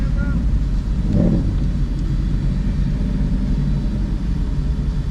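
Maserati engine rumbling steadily from inside the car during a ride, a low constant drone with a brief swell early on, and a voice speaking over it.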